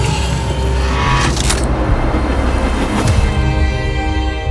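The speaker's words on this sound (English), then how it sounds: "Vehicle approaching." A road vehicle drives up with a loud, steady engine rumble, close and continuous with slight swells, in a tense military scene with a dog present.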